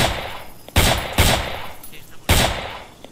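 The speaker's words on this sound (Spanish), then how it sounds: "Voy a disparar." Gunfire in the military shooter ArmA 3: three sharp, loud shots fired close by at uneven intervals, each with a brief echoing tail.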